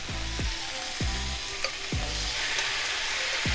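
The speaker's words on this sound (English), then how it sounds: "Now that the veggies are tender, I'm going to add the shrimp." Shrimp sizzles in a stir-fry pan with tender vegetables. A loud, steady frying hiss runs throughout, with several deep scraping stir strokes about every half second to second, and nobody talks.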